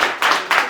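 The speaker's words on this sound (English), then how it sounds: "Can you give him a round of applause?" A brief burst of audience applause at a pitch event, several hands clapping in two quick swells, close and lively.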